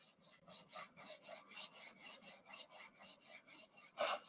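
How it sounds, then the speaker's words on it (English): Rhythmic back-and-forth sanding by hand, a steady series of close raspy strokes on wood, about three per second, ending in one louder scrape. "If you want more, then just keep sanding."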